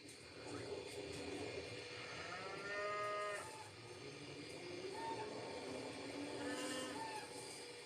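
A cow lows in a scene from the 1993 film Jurassic Park, two or three drawn-out moos set against a steady background ambience, at moderate loudness with no talk over it.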